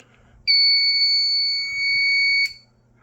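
A piercing electronic tone from a 1990s fire alarm system blares steadily for about two seconds during a system test, then cuts off abruptly.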